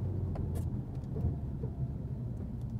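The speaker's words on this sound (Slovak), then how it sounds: "Budem brzdiť, ale zároveň potrebujem aj zatočiť do zákruty." A car brakes and turns on snow with ABS from about 40 km/h, heard as a continuous low rumbling road and engine noise with faint scattered clicks.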